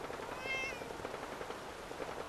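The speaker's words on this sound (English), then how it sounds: "and then I go find this little girl's cat" A cat meows in the Fallout 4 video game, a short, fairly quiet call rising over a steady background hum and muffled game noise, heard alone without talk.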